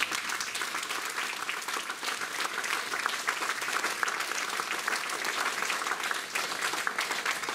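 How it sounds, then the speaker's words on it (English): An audience at a folk gig in Bow Village Hall gives a sustained, close round of applause, thick and even from start to finish without speech. "I think they collectively deserve a round of applause"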